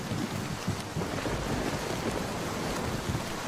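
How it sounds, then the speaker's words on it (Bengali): A cartoon storm effect of heavy rain and thunder: a dense, steady roar of rain with low rumbling underneath, fairly loud and continuous throughout, with no voices. "আর যখন ঝড় বৃষ্টির মধ্যে পইরাই গেছি"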